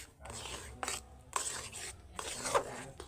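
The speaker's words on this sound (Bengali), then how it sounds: "একটু একটু করে খুন্তি দিয়ে নাড়তে হবে।" A spatula scrapes through thick semolina and potato dough in a pan over a low flame, making four or five rasping, rhythmic strokes at close range with short pauses between them.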